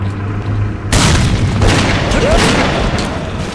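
A grenade blast in the shooter game S.T.A.L.K.E.R. Clear Sky lands as one loud, close boom about a second in, followed by a rumbling debris tail that fades slowly over several seconds.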